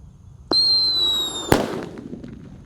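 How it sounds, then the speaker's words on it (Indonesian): A Blackbuster firecracker buried in the ground: its fuse hisses with a thin whistle, then a single sharp, muffled bang that fades into a short rumble of debris. "Di sini ada mercon Blackbuster. Kita lihat reaksinya di dalam tanah."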